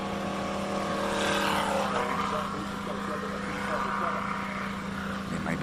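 A classic race car at a hillclimb roars past at a distance, its engine note swelling and fading over steady background noise.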